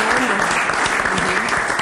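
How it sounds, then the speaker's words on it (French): A crowd of guests claps steadily at the close of a French-language broadcast, a brief, dense burst of applause with faint voices underneath. "Je crois qu'on peut applaudir pour tous les invités."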